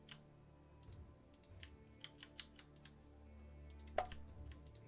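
Soft, faint keyboard typing at a home computer during a strategy game session, a scattered run of quiet clicks and taps with no voice over them.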